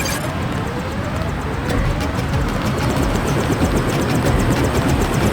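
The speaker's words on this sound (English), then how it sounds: "Take the helicopter back to base." A helicopter in the video game Deus Ex at an airfield whirs loudly and continuously, its rotor chop pulsing steadily with broad engine noise and no speech over it.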